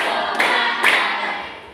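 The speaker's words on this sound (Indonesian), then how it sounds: "Tepuk 1, tepuk 2, tepuk 3," A classroom group claps in counted sets, with two distinct bursts of hand clapping landing close together and ringing in a small room, while no voices are heard.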